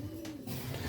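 Racing pigeons kept as breeders cooing softly in a loft, a short low murmuring coo heard close by with a steady background hum, no talk.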